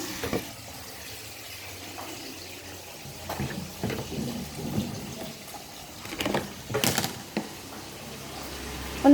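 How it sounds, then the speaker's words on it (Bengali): Clothes being washed by hand at home, with repeated wet sloshing, splashing and wringing swishes in uneven bursts over a steady low background, close and moderately loud. "আমি এখন কাপড় ধুচ্ছি"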